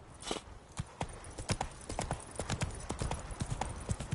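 Horse hooves clip-clop in a quick, steady rhythm as a horse trots in The Witcher 3 on PS5, sharp regular knocks heard up close without speech.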